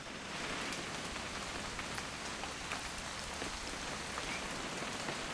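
Steady rain falls in the video game What Remains of Edith Finch, a dense, even hiss of drops on surfaces that holds unbroken from start to end with no voices.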